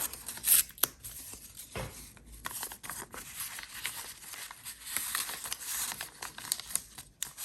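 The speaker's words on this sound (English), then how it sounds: "Just tear it a little bit shorter" Paper crinkling and tearing by hand close up, a few sharp rips among soft rustling handling, fairly quiet.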